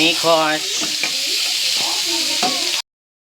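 Pancit noodles with pork being stirred in a hot pan, a steady sizzle and frying hiss with scraping stir strokes, continuous for a few seconds before cutting out, with a voice briefly audible.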